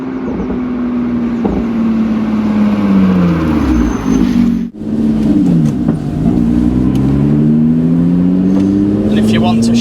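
A Lotus sports car's exhaust drones loudly and steadily while driving, rising and falling with throttle and gear changes and briefly dropping out near the middle, with people talking over it.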